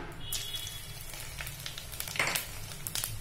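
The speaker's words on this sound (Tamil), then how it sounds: "இப்ப வடகம் சீரகமும் சேர்ந்து நமக்கு பொரிஞ்சிடுச்சு" Vadagam (seasoning balls) and cumin seeds crackle and sizzle steadily in hot oil while tempering a Tamil fish curry, with small pops rising above a continuous low frying hiss.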